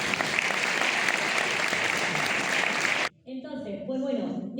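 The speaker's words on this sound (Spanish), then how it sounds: "Un aplauso para todas ellas" Audience applause for the jury members at the closing and awards ceremony of a theatre festival in Jarandilla, dense and steady for about three seconds, then cut off abruptly as a voice begins speaking.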